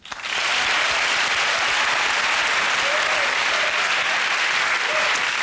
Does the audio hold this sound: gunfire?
no